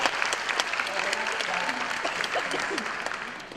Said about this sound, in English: thank you so much for clapping